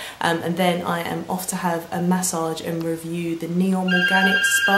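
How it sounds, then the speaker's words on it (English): A mobile phone rings with a repeating tonal ringtone, loud and close, under someone talking steadily over it. "That is my phone, always."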